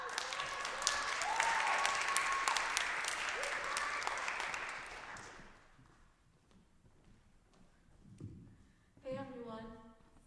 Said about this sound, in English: Please give a warm round of applause for Nyasaina Komboka.